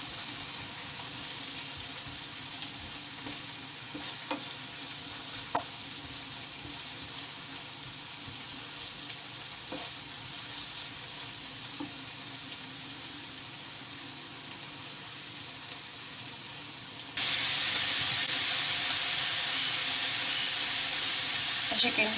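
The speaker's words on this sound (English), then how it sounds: "our cheese grillers are also starting, so that's the sizzle sound that you want to hear" Cheese griller sausages sizzle steadily in a pan alongside butter and brown sugar for South African hot dogs, a constant hiss with faint clinks, growing louder near the end.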